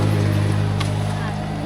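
A farm tractor engine runs steadily nearby, a loud, even low-pitched drone with a constant hum and a slight fade toward the end.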